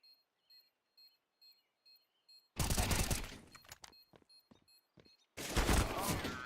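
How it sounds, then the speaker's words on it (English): Flashbang grenade going off in a multiplayer video game: a string of short, evenly spaced beeps, then a loud, sharp blast with a crackling tail, and a second heavy burst a few seconds later. "Deploying flashbang."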